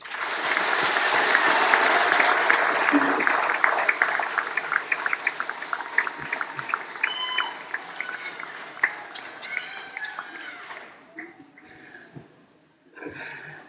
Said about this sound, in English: acknowledge the encouragement your supporters have given you by a round of applause